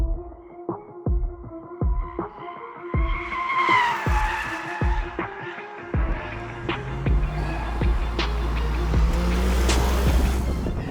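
A Mercedes-AMG C43 is driven hard on a racetrack, with sharp gear-change pops and engine pulls early on, then rising engine drone and tire squeal building as the car corners, loud and close.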